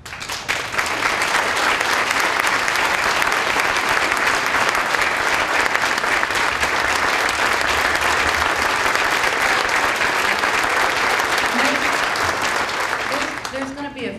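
An audience at a police awards ceremony claps in a long, dense, sustained round of applause that fills the room, then thins out near the end.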